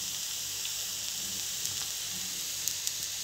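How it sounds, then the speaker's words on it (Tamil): A jowar dosa cooks on a hot pan with a soft, steady sizzle and faint hiss, plus a few tiny crackles near the end. "இந்த சைடு கொஞ்சம் நேரம் நான் வேகட்டும்"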